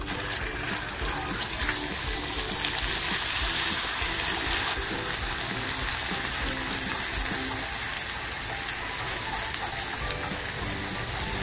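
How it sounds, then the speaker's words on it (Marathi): Masala spices sizzle in hot oil with turmeric in a pan as mutton keema masala is cooked, giving a steady, dense frying hiss throughout with no talking. "पॅन गरम केलाय, तेल टाकते, हळद टाकते अगोदर तेलामध्ये। आता जो मसाला आहे ना तो टाकते।"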